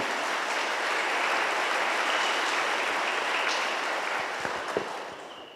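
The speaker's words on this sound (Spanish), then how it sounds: "Un aplauso grande para todos los queridos jóvenes." A church congregation at a confirmation service gives sustained, loud applause for the young people, dense clapping that swells and then thins toward the end with a few sharper claps standing out.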